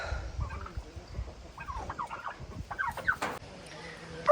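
Tom turkeys trapped behind a closed door gobble in several rapid rattling bursts, fairly close and loud, with a sharp knock near the end.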